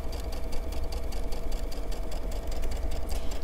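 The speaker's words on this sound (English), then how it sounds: "I'm just going to sew it nice and slow." A sewing machine runs slowly and steadily, stitching pajama fabric with a continuous, even mechanical whir and rapid needle clatter, close and alone without talk.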